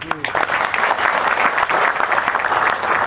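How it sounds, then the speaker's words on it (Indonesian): Steady applause from the audience at a Kenduri Cinta gathering, continuous and fairly loud for about three seconds, with faint voices mixed into the clapping. "Tepuk tangan untuk dia."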